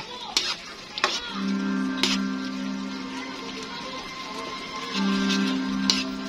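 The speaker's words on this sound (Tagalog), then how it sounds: "Tutunawin ko na lang yung peanut butter." Peanut butter being stirred and melted in a pan, with scraping and stirring strokes and faint sizzling, several sharp utensil taps against the pan, and a steady low hum running underneath.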